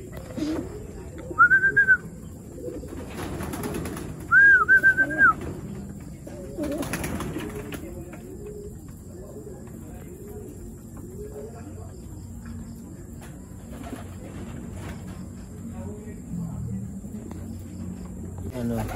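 Racing pigeons landing and cooing at a club loft, with soft coos and wing sounds close by, two brief whistles, and someone talking throughout.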